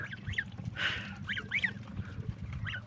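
Geese splashing in a freshly dug pool let out repeated short nasal honks at close range, several spaced calls over a low rumble of water and movement, with no talk.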